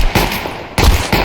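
Gunfire in Counter-Strike 2 comes in loud, sharp bursts of shots, with several cracks spaced across a brief moment.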